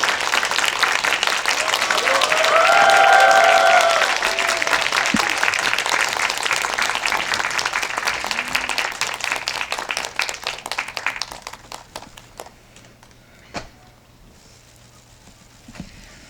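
Long, sustained audience applause greeting film guests at a Korean movie talk event, dense and loud for about ten seconds before thinning into scattered claps and fading toward near silence.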